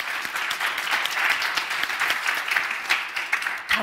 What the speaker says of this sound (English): Then maybe we do just give you one applause for the orchestra because you really deserve it.